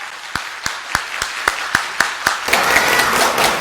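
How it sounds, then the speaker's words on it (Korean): At a film screening, a few sharp, evenly spaced claps start the response, then a full audience breaks into sustained applause. "여러분의 큰 박수로 맞이하도록 하겠습니다"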